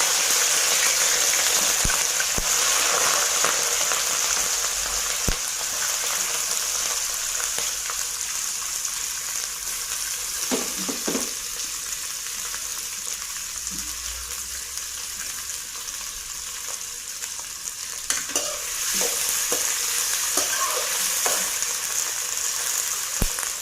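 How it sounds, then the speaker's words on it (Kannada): Ivy gourd shallow frying in a pan for a Karnataka-style dondekayi palya gives a steady, continuous sizzle with occasional stirring scrapes and clicks, close by and without talk. "ದೊಂಡೆಕಾಯಿ ಪಲ್ಯ ಫಸ್ಟ್ ಇದು ಸ್ವಲ್ಪ ಶಾಲೋ ಫ್ರೈ ಮಾಡ್ಕೋಬೇಕು"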